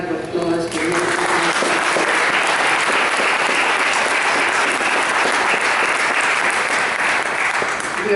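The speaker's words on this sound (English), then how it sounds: "would you mind just giving my staff a round of applause for me?" A crowd at a poet laureate ceremony gives a round of applause for library staff, sustained and loud throughout, with a brief bit of speech at the very start before the clapping takes over.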